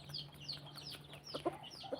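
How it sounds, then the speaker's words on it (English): Chickens on a farm at feeding time cluck softly in short bursts, with the oldest rooster among the flock nearby, faint calls scattered over a low background hum. "this bastard here, the oldest among the roosters"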